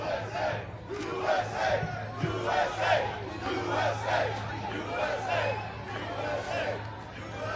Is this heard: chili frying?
no